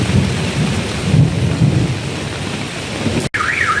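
Rolling thunder booms close by amid a steady autumn rain, the low rumble swelling and fading over hissing rainfall; near the end a car alarm begins warbling after a brief cut.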